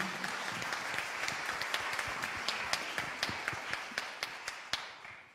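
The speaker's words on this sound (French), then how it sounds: "Qu'on peut applaudir." An audience applauds at a colloquium in Lyon's city hall, dense clapping with a few sharp individual claps standing out as it thins toward the end.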